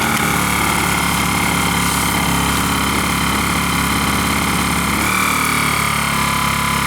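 A Zipper ZI-STE1000INV 1 kW inverter generator runs steadily just after starting, a constant quiet engine drone with an even tone throughout and a slight shift in pitch near the end, with no talking.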